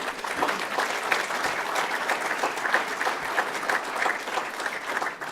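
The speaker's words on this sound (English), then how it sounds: "And I think they deserve a round of applause." An audience at a public transit board event applauds in a sustained, even burst of many hands clapping, moderately distant and without speech over it.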